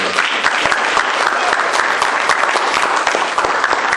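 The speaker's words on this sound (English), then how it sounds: "Now come on and clap your hands, everybody." A church congregation claps hands steadily and loudly during a gospel song, dense continuous applause filling the whole stretch with no pauses.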